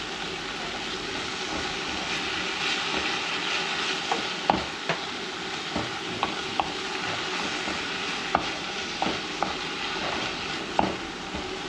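Calçots sautéing in olive oil with a little salt: a steady, even sizzle runs throughout, broken by scattered small pops and clicks, close and moderately loud with no talking.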